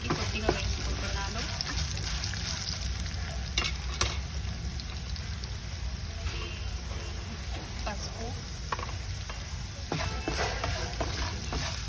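Tomato and red chilli paste frying in a pan, a steady close sizzle with scraping spoon strokes stirring it throughout, while a voice speaks over it.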